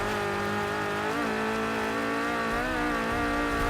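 Rally car in the racing game Gravel, a 5-speed driven hard out of a hairpin: continuous loud engine drone with rising and falling revs, gravel and tire noise, no talk.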